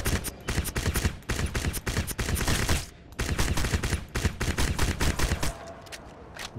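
Rapid gunfire from the video game Crysis hammers away almost nonstop in dense, loud bursts, broken by only a couple of brief gaps.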